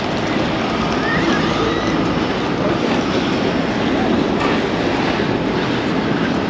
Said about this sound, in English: that's the tram there that I want to catch. I'm going to miss this one